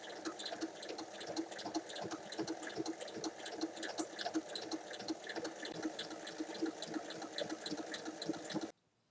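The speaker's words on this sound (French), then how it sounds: "on va faire une piqûre de chaque côté à 1 mm." Bag handles are topstitched on a sewing machine with a steady, rapid rattling run at moderate volume, stopping cleanly at the end, with no talking.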